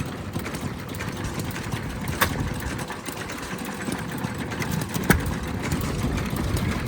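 An antique engine at a vintage machinery show runs smoothly and steadily with an even chugging mechanical drone and occasional clicks, loud and close, with no talking.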